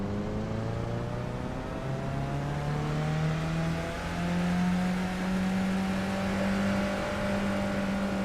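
A Skip Barber race car engine in iRacing revs up steadily through the gears at Zolder, a loud sustained rising whine with no talk.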